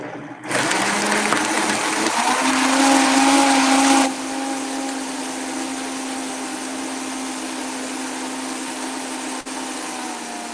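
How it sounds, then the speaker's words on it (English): A blender whirs loudly, blending watermelon and basil with little added liquid, starting with a heavy chopping surge for about three seconds, then settling into a steady, smoother high whine that runs on alone to the end. "you don't need to sit through and listen to the blender going"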